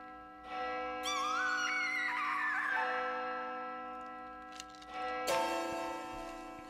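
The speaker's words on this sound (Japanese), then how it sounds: "鐘が鳴っている。" A clock tower bell tolls in the school grounds of the horror video game Shibito Magire, where the tower's hands are said to have stopped. The rings are fairly faint and resonant, with long decaying tones and a second strike later.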